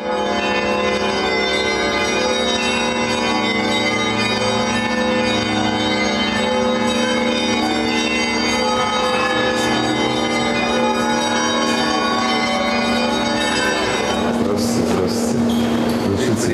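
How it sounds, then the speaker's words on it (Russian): Cathedral bells of the Holy Trinity Cathedral in Saratov ring continuously and melodically for a governor's inauguration service, a steady layered peal that grows denser toward the end. "Мелодичный звон колоколов Свято-Троицкого собора встречает губернатора Саратовской области."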